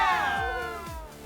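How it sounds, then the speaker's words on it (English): A children's audience at an Easter Sunday kids' service cheering: a brief burst of high, excited voices that rise and trail off, close and fairly loud. "let me hear you cheer"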